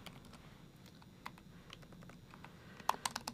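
Quiet, close typing on a computer keyboard as Python code is entered, with scattered soft keystrokes and a few sharper clicks near the end.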